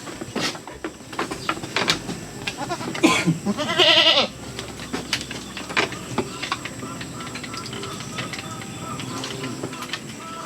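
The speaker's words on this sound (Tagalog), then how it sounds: "May naninirang kambing." A goat gives a loud, close bleat lasting about a second amid scattered clatter and background noise on a farm.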